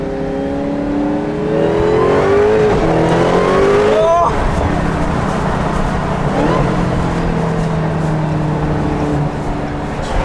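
A Dodge SRT Hellcat Redeye's engine revs hard as the wheels spin, a loud rising roar that peaks, drops sharply, then settles into a sustained high drone, with people talking faintly underneath.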